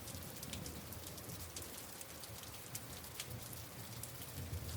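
Soft, steady rain falls with a fine hiss and scattered faint drop ticks. It is quiet and even throughout, with no voices.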